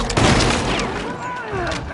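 Gunfire in the video game Little Nightmares 2, a loud burst of overlapping shots filling the whole clip, dense and close with no pauses.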